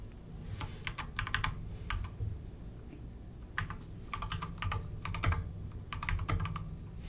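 Bursts of rapid clicking keystrokes on a computer keyboard, close by, in irregular clusters separated by short pauses.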